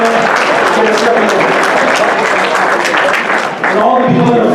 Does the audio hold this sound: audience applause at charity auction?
yes